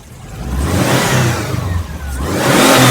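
A 2009 Subaru WRX STI with a swapped engine revs hard and loud several times, rising and falling between pulls, with no talk over it.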